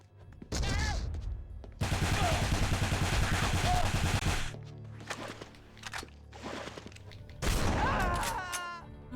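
Gunfire in the PS3 game Folklore, loud sustained bursts of rapid shots in several separate volleys with quieter gaps between, close and dominant, no talking heard.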